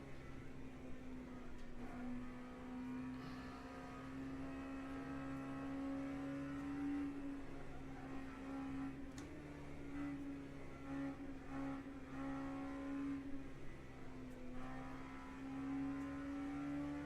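A race car engine droning steadily at Spa in a WEC endurance racing game, a sustained tonal whine that rises and dips slightly through gear changes and curves, faint and continuous with no voices.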